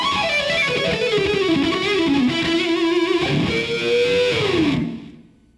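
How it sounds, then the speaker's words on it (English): An electric guitar played through distortion sings a smooth, sustained blues line with bends and slides, loud and close, before the last note fades out. "With some distortion, that can sound real smooth."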